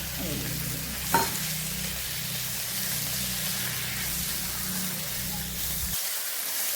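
Tomatoes and onion powder sautéing in a pan, a steady close sizzle and fry with a brief stir clatter near the start, cutting off near the end.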